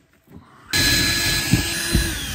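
A small power drill drives a screw into wood while repairing a caravan, starting abruptly and whirring steadily up close with a couple of louder strain bumps.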